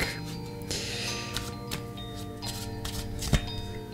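Tarot cards shuffled by hand close up, a continuous papery riffling and slapping with irregular sharper snaps and a louder tap near the end, quiet and without talk.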